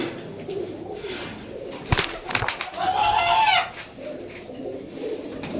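A big male silver racer pigeon gives a soft, throaty coo near the middle, preceded by a couple of sharp clatters, heard close against faint background noise.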